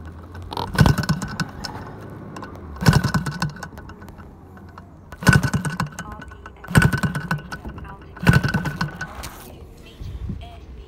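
A 60cc model aircraft engine on an Xcub build is hand-cranked without an electric starter: five sharp, separate bursts of cranking spaced a couple of seconds apart, each failing to catch, with faint sounds between attempts.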